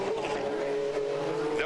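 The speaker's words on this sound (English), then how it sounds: "the 2 no-hooded cars are now touring around for a photo opportunity" Race cars from the 1990 Long Beach Grand Prix GTO/GTU field tour the street circuit at a steady pace, a continuous mid-level engine drone with faint tire noise under commentary.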